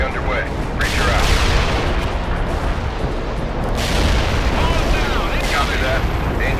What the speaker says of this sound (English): Carpet bombing underway.